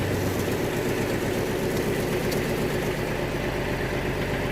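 A Mitsubishi MT181 Japanese mini tractor engine idles steadily and loudly up close, with a low, even diesel-like throb and constant vibration throughout, no talking.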